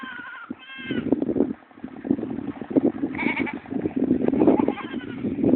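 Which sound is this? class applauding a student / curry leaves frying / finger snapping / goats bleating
goats bleating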